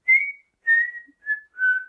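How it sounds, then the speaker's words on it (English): A person whistles four short, clear notes, each holding a steady pitch with gaps between them, close up and alone. "Whistling optional."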